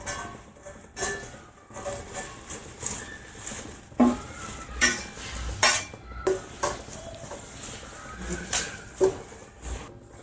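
Sun-dried, washed curry leaves are dry-roasted in a pan over a low flame for sambar powder, with repeated scraping and stirring strokes, light rustling and faint metallic clinks of the spoon against the pan, close and intermittent, no talking.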